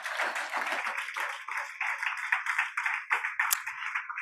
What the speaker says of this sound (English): help me thank the panelists for their contribution with a warm applause